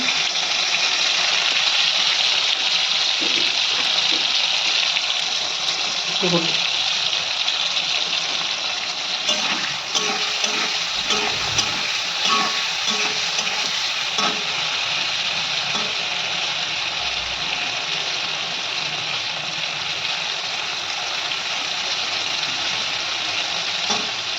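Paneer pieces frying in oil in a kadai, salted, a continuous close sizzle and crackle with a few soft clinks and thumps mid-way and a low background rumble, no talking.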